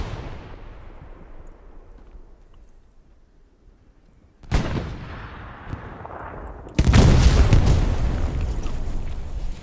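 Distant gunfire and heavy booms from the Easy Co. Tac Team military game, starting as a low rumble and then rising into louder blasts and sustained firing toward the end.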